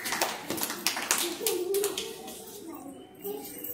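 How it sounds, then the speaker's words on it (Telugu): Children clap in a classroom learning activity: a burst of quick, close hand claps in the first second or so, then a voice carries on under a softer room murmur. "Very good claps."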